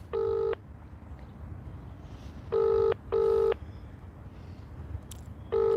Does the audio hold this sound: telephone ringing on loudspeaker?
yes